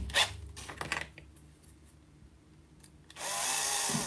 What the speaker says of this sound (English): just drill those out again